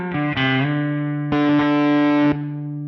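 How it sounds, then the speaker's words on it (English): Electric guitar through a Beetronics Vezzpa fuzz pedal switched in momentarily, giving loud, sustained distorted chords in two bursts with a brief drop between them, the dry tone returning after each. "that's just me momentarily holding down the bypass switch. I'm not turning the pedal on, just holding it down for as long as I want that fuzz."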